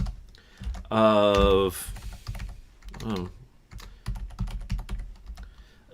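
Quick bursts of clicky keystrokes on a computer keyboard tap out in an uneven rhythm, close and fairly quiet, with a brief voice heard once near the start.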